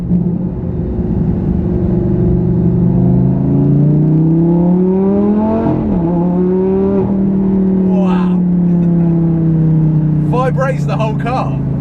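Bright yellow supercar idling with a deep, steady engine rumble that swells slightly midway, continuous and close throughout, with faint brief sounds near the end.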